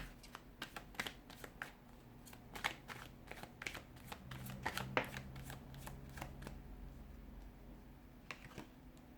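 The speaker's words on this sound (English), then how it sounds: "give the cards a shuffle" A deck of tarot cards is shuffled repeatedly, crisp riffling bursts and soft taps in an uneven rhythm, close and fairly quiet, with no talking.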